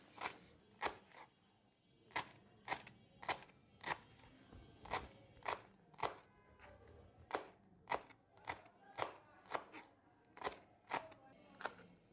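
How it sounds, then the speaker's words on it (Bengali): Coriander leaves being chopped finely with a knife on a board, a steady series of crisp, evenly spaced close-up knife taps, about one or two per second, with no talk. "একইভাবে ধনিয়া পাতাও মিহি কুচি করে কেটে নিচ্ছি।"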